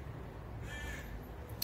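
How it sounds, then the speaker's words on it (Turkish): A crow caws outdoors at a hillside cafe, a single clear call over a steady background hush, with a faint click near the end. "Biraz ses olabilir, böyle kuş sesleri filan, doğayla iç içeyiz"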